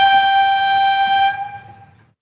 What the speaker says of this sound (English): Or train horn?